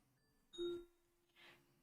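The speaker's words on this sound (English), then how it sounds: "dong. Someone is at the front door." A front-door doorbell rings with a two-note ding-dong chime, a bright sustained tone followed by a softer second note, heard alone and fairly clear.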